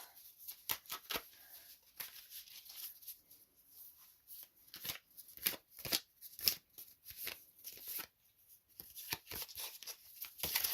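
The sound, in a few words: shuffling and pulling tarot cards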